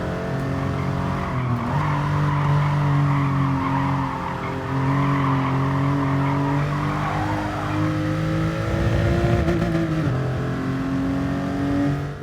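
A race car in Gran Turismo Sport oversteers and skids, tires squealing in long sustained tones over a droning engine that rises and falls as the car slides through corners, loud and continuous.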